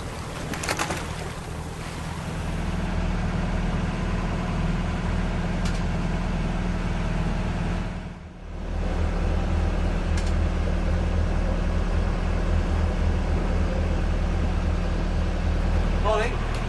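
A sailing boat motors along under steady engine drone, with wind and water noise underneath, continuous and close, briefly dipping midway.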